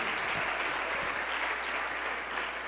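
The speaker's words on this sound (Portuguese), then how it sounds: "Vamos aplaudir o Senhor Jesus, igreja." Steady applause from a church congregation during a service, dense, even clapping that holds throughout, with no one speaking over it.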